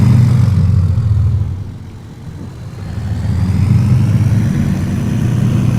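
A truck engine rumbling steadily up close, a deep low drone that dips briefly then swells back up.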